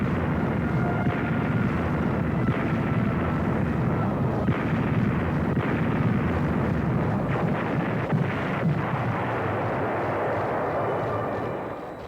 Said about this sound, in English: the big guns of the fleet smashed enemy strongholds miles away